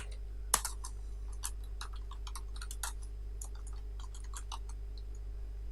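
Someone types a name on a computer keyboard while making an invoice in Microsoft Word, producing a steady run of soft, irregular key clicks over a low constant hum, with one sharper tap near the start and no talk.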